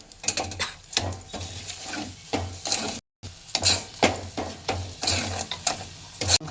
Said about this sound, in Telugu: ఇలా షుగర్ వేసుకోవాలి వేసుకొని కలపాలి